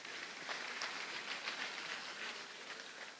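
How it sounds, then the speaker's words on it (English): Audience applause fills a university inaugural lecture hall at Benson Idahosa University, a steady dense patter of many hands clapping at moderate distance, continuous throughout with no voices over it. "A round of applause, please."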